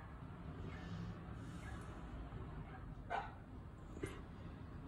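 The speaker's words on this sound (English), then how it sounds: "Rexy's barking again." A dog barks faintly in the distance, two short barks about a second apart over a quiet background murmur.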